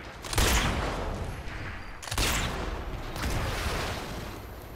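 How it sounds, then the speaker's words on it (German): Sniper Elite 4 gameplay with loud bursts of gunfire and explosions: one sharp blast near the start, a second heavy blast about two seconds later, then a continuous rumbling roll of fire with no talking. "Oh, du hast den gesprengt, cool."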